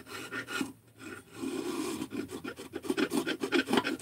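A scraper or rasp grinding old gasket material off an engine crankcase face, rough repeated scraping strokes up close, starting with a few bursts and then speeding into a quick steady rhythm.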